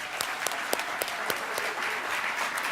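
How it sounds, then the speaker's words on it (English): Warm round of applause from an audience at a philanthropic announcement event, steady dense clapping with sharp individual claps standing out, moderately close. "Let's give them a warm round of applause."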